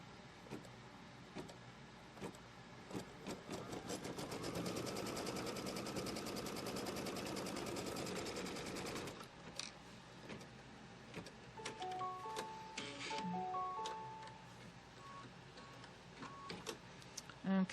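A quilting embroidery machine tacks down a piece of fabric left to right with a rapid, even run of stitching clicks, then slows into sparse ticks and short motor whirs, faint and close.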